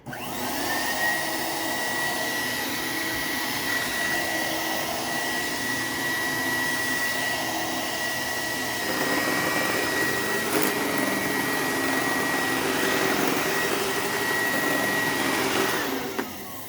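A vacuum cleaner with a bad brush roller runs continuously in floor mode with a loud roar and a high, steady whine, its tone shifting rougher partway through before cutting off at the end.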